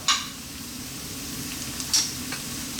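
Carrots and cauliflower hit a hot pan with garlic, giving a steady low sizzle with a couple of brief clinks of stirring near the start and around two seconds.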